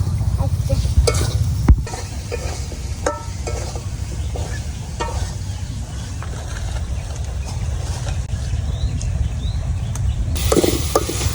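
Fish frying in a pan at a simple village home, a loud, steady sizzle with occasional scraping and clatter of stirring, no one talking.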